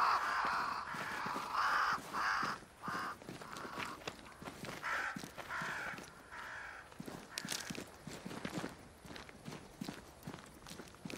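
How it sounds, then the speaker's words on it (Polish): Crows flock around a great tree in Banishers: Ghosts of New Eden, giving repeated hoarse caws in bursts while footsteps crunch steadily underneath, both close and clear. "Crows. They flock to that great tree up there."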